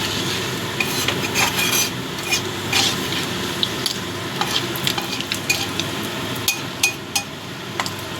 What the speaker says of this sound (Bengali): ফোড়নটা একটু ভেজে নেবো